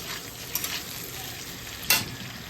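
A spoon stirs hilsa fish curry with papaya and potato in a pan just uncovered, giving a steady sizzle with a few sharp metal clinks against the pan, one louder scrape near the end.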